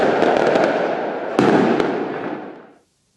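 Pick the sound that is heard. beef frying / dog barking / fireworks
fireworks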